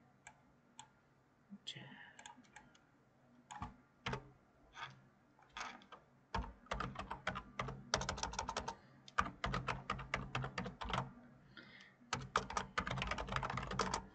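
Keys clatter on a computer keyboard in scattered taps that build into rapid, dense typing, faint and close, with a softer pause near the middle.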